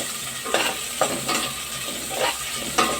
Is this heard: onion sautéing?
yes